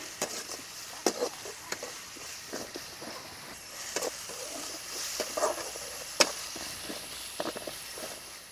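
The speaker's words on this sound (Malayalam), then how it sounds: "ഇനി ഇത് നന്നായിട്ട് നമുക്ക് വഴറ്റി പൊരിച്ചിഞ്ഞെടുക്കാം" Onions with salt frying in a pan give a soft continuous sizzle, broken by irregular scraping and clicking as they are stirred, close and fairly quiet, with no voices.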